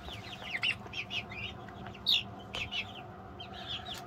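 Young turkeys nearly five weeks old give repeated high, thin peeping calls and chirps in short clusters, close by and fairly clear over a quiet background.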